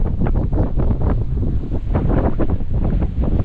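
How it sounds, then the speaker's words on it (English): Strong wind buffets the microphone from inside a rocking parked truck by the Okuru River near Haast, New Zealand, a constant loud roar gusting unevenly with no voices heard. "it is windy as I'm sitting in the truck at the moment and getting rocked from side to side"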